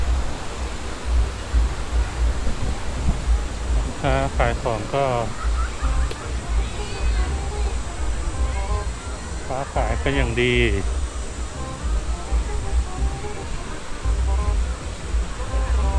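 Rushing water from the Wang Nen waterfall at Sung Noen, Khorat, a steady broadband roar throughout, with people talking briefly over it.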